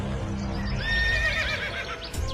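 A horse gives a loud, close whinny with a rising and falling pitch, over soft hoof clip-clop and low background rumble.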